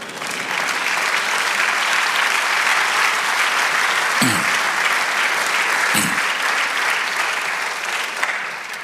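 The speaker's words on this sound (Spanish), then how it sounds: "ustedes den un aplauso al Señor." Church congregation applauding during a Spanish-language sermon, a loud, continuous, even roar of many hands clapping that holds for several seconds, broken only by two brief low thumps.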